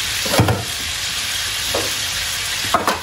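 Mushrooms and gizzards fry over high heat in a pan, giving a steady close sizzle with brief stirring scrapes and clinks.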